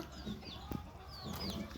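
Chickens, some perched up in trees, cluck faintly in short low bursts, with thin high bird chirps drifting over a steady outdoor background.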